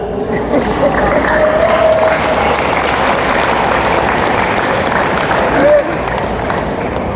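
A talk audience breaks into loud, sustained applause, with dense clapping and crowd noise filling the whole stretch at close range.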